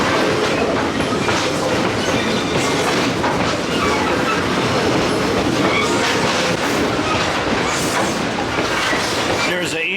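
A Great Smoky Mountain Railroad passenger train with diesel locomotives at each end, heard from aboard as a loud continuous roar of wheels on rails with rhythmic clickety-clack and occasional squeal, voices murmuring underneath.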